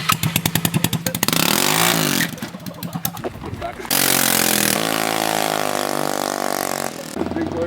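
A loud pit bike engine revving hard in bursts, with rapid firing pulses giving way to sustained high-pitched screaming revs close by, with voices talking over parts of it.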